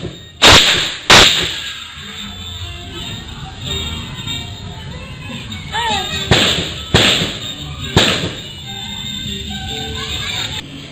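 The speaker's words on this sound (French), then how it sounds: "un homme armé d'une Kalachnikov passant devant la caméra, tirant des coups de feu" Several loud sharp Kalashnikov rifle gunshots crack out during a terrorist attack in Grand-Bassam, a pair near the start and a cluster later, echoing over a steady background hum.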